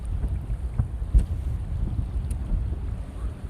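Constant rumbling wind buffets the microphone outdoors by the water, a low gusty roar with occasional faint knocks and no voices.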